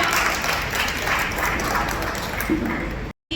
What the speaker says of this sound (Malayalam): നല്ലൊരു കൈയടിയോടുകൂടി നമുക്ക് ആശംസിക്കാം.